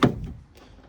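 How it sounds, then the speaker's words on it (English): The driver's door of an AutoTrail Imala 715 motorhome opens with one short, close thunk, then a quiet rattle fades away. "if I open up the driver's door."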